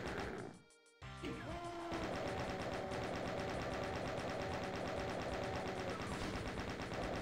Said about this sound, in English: we put some chain gunners behind you